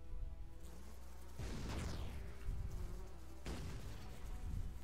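A swarm of bees in the video game Shellshock Live buzzing steadily, the drone swelling into louder bursts now and then, close by with no voices.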